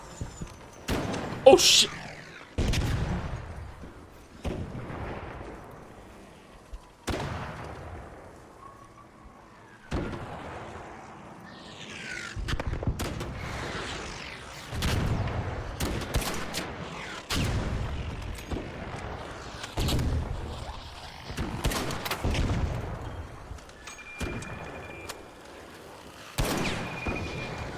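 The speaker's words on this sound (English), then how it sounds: "Hold on, let me take out my big gun." Heavy gunfire from a big gun in the video game Pathologic, a long run of loud booming shots and thuds, some in quick bursts and others spaced apart, with a voice exclaiming between them.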